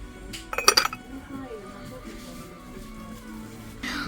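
A short cluster of bright clinks as ceramic cups knock together, up close, then quieter handling noise with a voice speaking.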